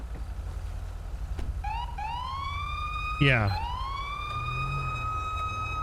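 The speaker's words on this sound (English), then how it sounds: "And I believe the Crown Vic has one of the older sirens." An older-style police siren on a Crown Vic in the FiveM game rises in a wailing sweep, breaks into a quick yelp, then settles into a sustained high tone. A brief spoken word comes over a low engine hum.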